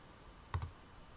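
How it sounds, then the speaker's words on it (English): A single enter key press on a computer keyboard, one quiet close click with a faint rebound, alone in near silence. "hit enter on our keyboard."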